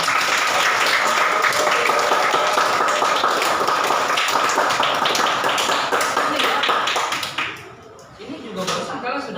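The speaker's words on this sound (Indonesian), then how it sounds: "Ya, tepuk tangan buat kamu." Applause and clapping for a student in a classroom coding lesson, a dense steady patter of many hands with taps mixed in for several seconds, then fading out near the end.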